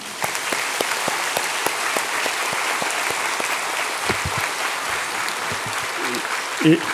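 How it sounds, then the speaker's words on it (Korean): Congregation applauding in a church service, a sustained wash of many hands clapping for several seconds, with a voice speaking over it near the end. "한번 우리 목사님 위로해 드리는 앞에서 박수 한번 더 치겠습니다."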